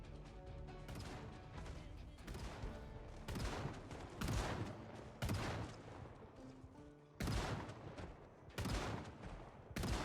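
Repeated shotgun blasts in Project Zomboid, several loud booming shots spaced a second or two apart over a dense game background, with occasional speech underneath.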